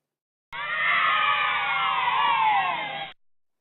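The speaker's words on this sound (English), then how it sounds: "specify any sound we like, such as this cheer" A cheering crowd sound effect used as a reward in an interactive whiteboard classroom activity, a dense burst of shouting and cheers lasting under three seconds, starting abruptly and cutting off cleanly against silence.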